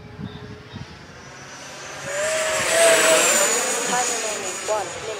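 A Freewing F-14 Tomcat RC jet pulls up into a big loop, its ducted-fan whine swelling from faint to a loud, sweeping rush that shifts in pitch as it passes, then eases off.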